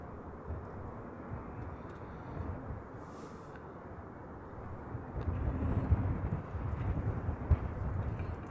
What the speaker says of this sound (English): that MD-11 looks like it's on the roll